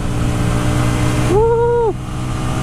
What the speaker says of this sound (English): Clutchless upshifts are nice and smooth.